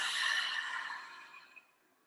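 A single long breath pushed out through the mouth, strong at first and gradually trailing off into quiet.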